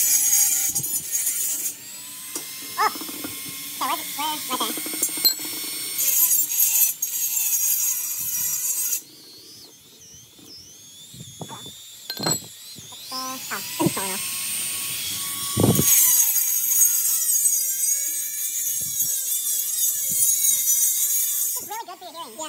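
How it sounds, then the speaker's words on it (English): A Dremel grinds a hole into an old propane tank being made into a forge, with bursts of high whining metal grinding that stop and start. The grinding is loud and close, and voices talk in between. "I'm gonna try to grind it into the shape that we want with this Dremel."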